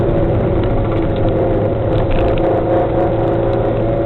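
Car engine under throttle, a loud continuous mechanical drone with steady low rumble and rattling texture, close and even throughout with no talk.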